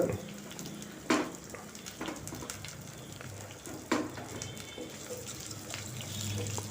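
Chopped shallots and onions fry in a pan for a tamarind fish curry, with a soft, steady sizzle and a couple of distinct scraping stirs up close, and no speech.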